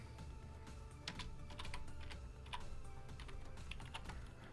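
Fast, continuous tapping on a computer keyboard during HTML coding, close and fairly quiet, with uneven bursts of keystrokes and no speech.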